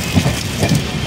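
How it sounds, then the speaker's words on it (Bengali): Heavy rain pours outside at Aluabari Road Junction railway station in Islampur during an evening stop, a dense, steady hiss close by with soft thuds, and no voices. "বাইরে প্রচণ্ড বৃষ্টি হচ্ছে।"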